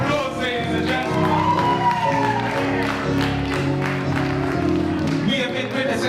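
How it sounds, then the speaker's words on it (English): Audience applause and cheering at a jazz fundraising night in an abbey, a dense sustained wash of clapping with whoops and shouts, loud and close, with a band's instruments sounding beneath. "Give him a round of applause, ladies and gentlemen."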